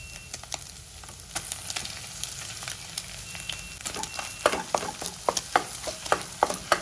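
Chopped, pre-cooked goat brain fries with egg in a hot pan, a steady close sizzle with rhythmic scraping stir strokes that grow louder and more frequent toward the end.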